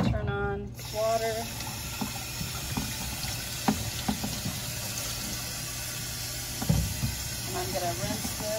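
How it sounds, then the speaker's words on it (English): Tap water runs steadily into a sink while a brine shrimp hatchery is rinsed, making a constant close hiss with a few knocks and clunks of handled equipment, and a voice speaks briefly. "And then what I'll do is go ahead and turn on water."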